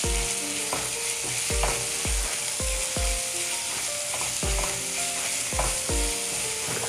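Green chilli paste fries in a pan for a besan pithla curry, with a steady bright sizzle. A utensil scrapes and knocks against the pan in a regular, repeating rhythm throughout.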